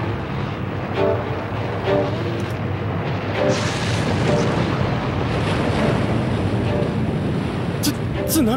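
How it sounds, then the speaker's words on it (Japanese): Loud, steady roar of surging ocean water as tsunami waves approach, broadband rushing noise with wind buffeting throughout and faint voices briefly audible beneath. "津波が来るぞ。"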